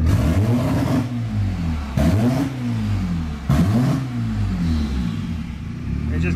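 A boosted Honda Accord with an F23 engine revs hard at full throttle from inside the car, a loud rising and falling drone in three surging pulls that cut back abruptly, with no talk over it.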